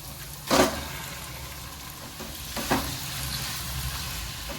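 Chicken mince sizzles as it fries in a spiced yogurt masala that has started releasing its oil, with a steady close hiss and two louder bursts of sizzle as the mince is stirred.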